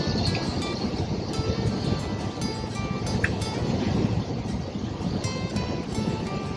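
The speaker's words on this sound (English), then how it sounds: "Yeah, it's windy. It's pretty typical of Convict Lake, I hear." Wind rushes steadily past the microphone outdoors at Convict Lake, California, a continuous gusty roar with faint lake water lapping underneath and no talking.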